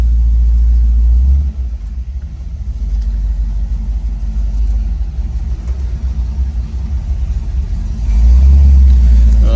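A 1964 Chevrolet Impala's engine idles in a deep, steady low rumble close by, swelling louder near the start and again toward the end as it is revved.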